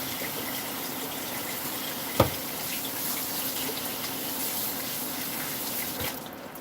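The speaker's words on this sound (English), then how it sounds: "Wash my hands again." Water running steadily from a kitchen tap while hands are washed, a constant soft gush with one brief knock partway through, no talking.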